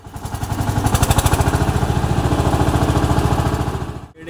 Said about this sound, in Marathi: आता ते ट्रॅक्टर सुरू केले आणि आवाज येत असतात तुमका